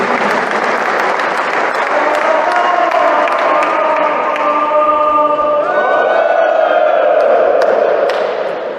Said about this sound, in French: Je demande un tonnerre d'applaudissements pour ce trio